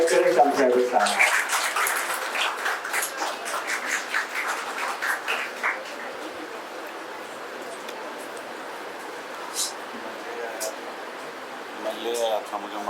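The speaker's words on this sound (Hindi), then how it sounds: "मैं चाहूंगा तालियों से उनका स्वागत करें शम्स रहबर साहब।" Audience at a student felicitation ceremony applauds to welcome a guest speaker onto the stage, a loud burst of clapping at the start that thins into scattered claps and room murmur, with a few claps returning near the end.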